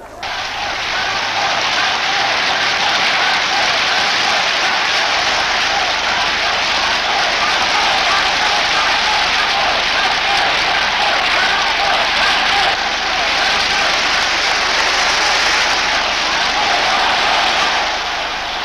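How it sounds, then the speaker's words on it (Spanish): A huge crowd at a street rally in Madrid bursts into a loud, sustained ovation, dense unbroken clapping and cheering that roars on steadily with no pause. "Una enorme ovación acogió sus palabras."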